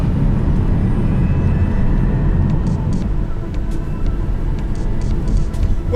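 Inside an electric campervan from the London Electric Vehicle Company, a taxi maker, on its first drive, a steady loud low road rumble and tyre roar fill the cabin with no voices.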